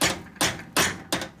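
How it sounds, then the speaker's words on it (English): A steel hammer raps a bent motorcycle clutch cable top motor mount four times in an even rhythm, each strike sharp and close with a short ringing tail. "I'm going to use my steel hammer"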